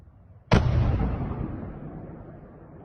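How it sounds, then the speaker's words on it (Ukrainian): A single sudden, heavy missile explosion booms out from a direct hit on an apartment block in Dnipro, followed by a long rumbling decay that slowly fades over the next few seconds. "чітко чутно лише один вибух, і це було пряме влучання у багатоповерхівку"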